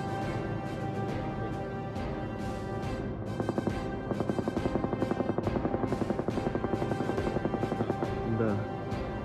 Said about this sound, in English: Ukrainian helicopter, Mi-8, intercept Shahed kamikaze drone